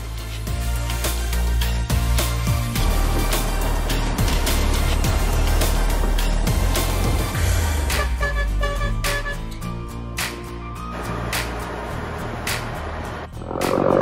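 Inside a local bus travelling through Kanchanaburi, Thailand, toward Hellfire Pass, a deep engine rumble runs steadily beneath frequent rattles, knocks and clatters from the moving cabin.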